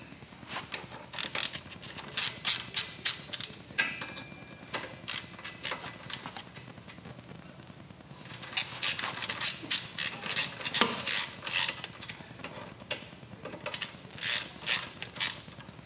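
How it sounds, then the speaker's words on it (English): A ratchet wrench clicks in quick bursts while tightening the fender bolts on a Harley-Davidson Dyna Street Bob, with several separate rounds of sharp, close ratcheting and short pauses between them. "We'll go ahead and tighten the fender up."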